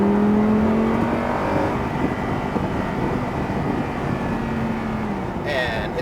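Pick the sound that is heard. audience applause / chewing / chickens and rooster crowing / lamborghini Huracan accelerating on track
lamborghini Huracan accelerating on track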